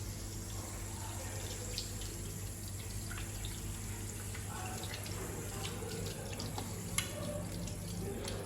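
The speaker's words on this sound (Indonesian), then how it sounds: "langkah pertama melakukan cuci tangan 6 langkah" Tap water runs steadily into a sink while hands are washed under it, a soft continuous splashing with faint drips and rubbing, quiet and close, with no talk.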